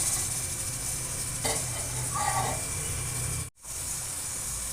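Steady hiss of small tomatoes roasting on a stand over an open gas flame, with faint crackling and a brief rustle partway through.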